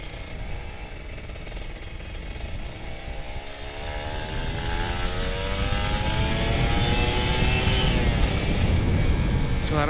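A Kawasaki Ninja RR 150 two-stroke sport motorcycle engine revs up with a rising whine, growing louder and rougher over several seconds, close by and steady.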